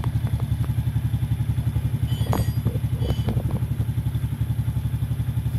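A cold Suzuki Raider J 115 Fi motorcycle engine idles steadily up close with an even, rapid low putter, a few light clatters and thumps rising over the running engine.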